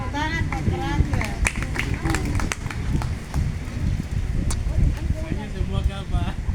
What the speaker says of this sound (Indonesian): Iya, tepuk tangan buat Raja